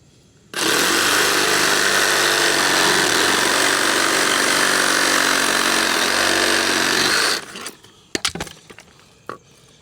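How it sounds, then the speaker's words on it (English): Hacksaw cutting through metal bands during a generator wiring and 200 amp service upgrade, a loud steady rasping stroke that runs nearly eight seconds alone, then stops, followed by a few scattered clanks and handling knocks. "I'm gonna have to use the hacksaw here"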